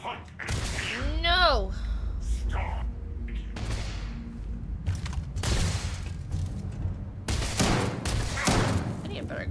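Gunfire in the sci-fi video game Starfield, several sharp bursts scattered across the scene with mechanical creaks and a rising whine, loud and close, while a person talks in between.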